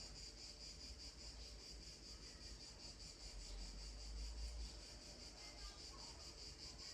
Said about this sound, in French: Avec le bruit des cigales.